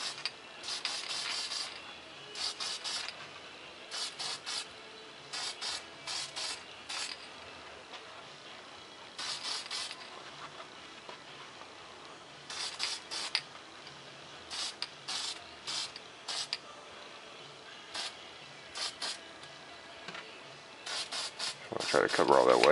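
Short bursts of aerosol spray from a can of Testors paint coat a foam model jet, repeated hissing puffs in irregular clusters over a quiet room background, with a louder rustle at the end.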